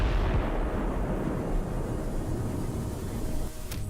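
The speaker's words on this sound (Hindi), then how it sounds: "फिर होता है एक बड़ा धमाका।" A massive bombing explosion in southern Beirut booms at the start, followed by a long, heavy rumbling roar of debris and blast that gradually settles.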